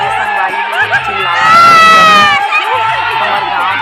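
A village crowd at a district-level kabaddi event in Chhattisgarh shouts and cheers loudly, rising into a sustained roar of many voices in the middle before settling back to scattered calls.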